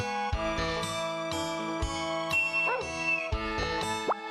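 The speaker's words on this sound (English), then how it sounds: "Look at this dog." Dog barking in the video game Harvest Moon 64, short chiptune-style yips repeating over bright looping game music.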